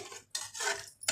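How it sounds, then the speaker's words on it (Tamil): A spoon scrapes and rasps around inside a pot of tomato rice in two quick, gritty strokes. "நல்லா கிளறி விடணும்"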